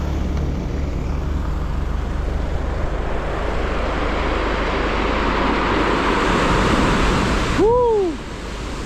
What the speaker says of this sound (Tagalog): Mahampas ang alon.